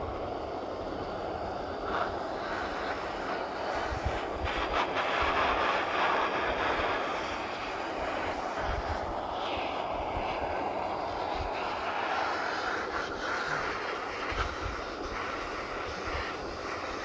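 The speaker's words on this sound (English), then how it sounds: "Now we got a flame. Warm things back up." A torch flame roars steadily while heating metal, a loud continuous broadband rush with slight surges, no voices.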